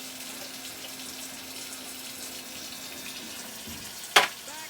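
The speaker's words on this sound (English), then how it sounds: "And you still want the water running." A kitchen tap runs in a steady, even stream of hissing water while tomato sauce is being made, with a faint low hum beneath it. A single sharp clunk sounds near the end.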